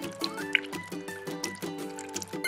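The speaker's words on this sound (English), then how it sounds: "See how the water's pouring out?" Water dribbles and trickles out of small toy cups with holes in the bottom into a pool, close and gurgling, with steady musical tones playing behind it.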